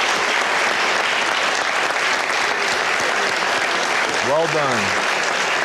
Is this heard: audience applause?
yes